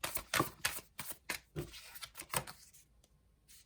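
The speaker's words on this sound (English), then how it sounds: "Let me keep shuffling." Tarot cards are shuffled by hand in quick, crisp riffling bursts, close and soft, repeating several times with brief pauses, a single spoken word barely audible underneath.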